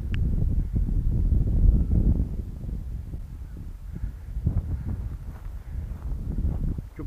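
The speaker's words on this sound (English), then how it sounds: "Hell of a wind there" Strong gusting wind buffets the microphone at an outdoor model aircraft flying field, a loud, continuous low roar that swells and eases, with faint rustling and no voices.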